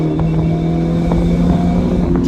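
A BMW 1 Series E88 with a naturally aspirated engine accelerates, heard from inside as a close, steady engine hum with faint ticks and knocks over the tone and no talking.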